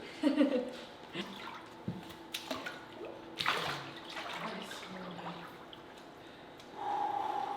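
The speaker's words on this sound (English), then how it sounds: "I know, Maisie, get in the tub." A person lowers into a cold plunge tub, producing close splashing and sloshing water with gasping breaths, a louder surge of moving water midway, and a steady trickle toward the end.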